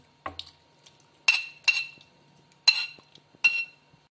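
Metal utensil clinking and scraping as mutton liver is stirred and mixed on a tawa, several short sharp clinks and scrapes in bursts with quiet gaps, close up, no talking.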